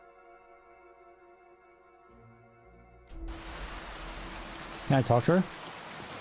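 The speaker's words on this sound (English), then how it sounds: "it's raining?" Steady rain falls in a video game, a broad hiss that starts abruptly partway through after soft sustained tones, with a man's brief speech over it near the end.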